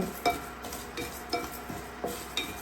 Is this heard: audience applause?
no